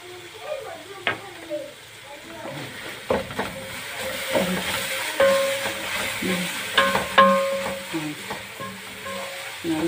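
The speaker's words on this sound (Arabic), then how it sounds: "دي طومه بالكزبره الخضراء دقها، حطها مع البصل اقلبها شويه" Garlic pounded with green coriander is stirred into frying onions in a pan, giving a soft sizzle with scraping spoon strokes and knocks, while someone talks over it.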